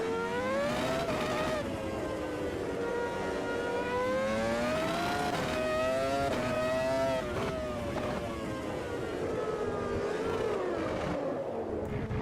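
A race car in Automobilista 2 drives hard, its engine whining and revving through rising and falling gear changes as it slides into corners, loud and continuous with faint talk underneath.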